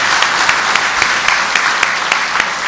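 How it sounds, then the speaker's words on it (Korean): Loud, close audience applause offered as thanks at a 2008 lecture marking the anniversary of the 10.4 inter-Korean summit declaration, a continuous dense patter of many hands with regular sharper claps cutting through. "여러분 박수로 좀 다시 한번 감사의 표해 주시기 바랍니다."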